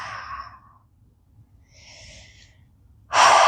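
A person exhales during a yoga shoulder flow, with soft breath sounds near the start and middle, then a loud, close, forceful breath out at the end, with no speech.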